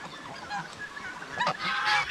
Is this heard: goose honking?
yes